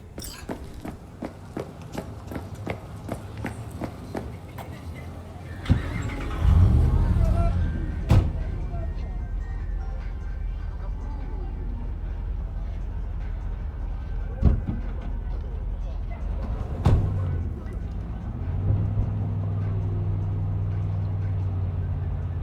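Car driving in the Cyberpunk 2077 video game: a steady low engine rumble runs underneath, with door thuds and a rising motor surge partway through, while voices converse over it.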